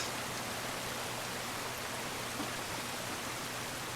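Steady rain falls in The Last of Us remake video game, a dense, even hiss of downpour that holds without pause throughout, with no talking over it.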